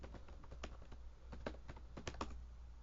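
Computer keyboard typing while entering a shell command: irregular clusters of light key taps, fairly close, over a steady low hum, with no voices.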